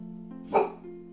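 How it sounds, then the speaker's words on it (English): A single short dog bark rings out over a steady humming tone in the Final Fantasy IX video game, brief and close against the quiet backdrop. "Stop barking."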